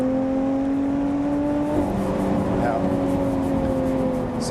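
A Lotus Evora GT430 sports car accelerating hard on the road, its engine tone climbing steadily and then dropping with a gear change before rising again, heard from inside the cabin with a droning, loud presence.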